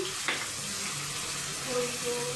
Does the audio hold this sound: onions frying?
yes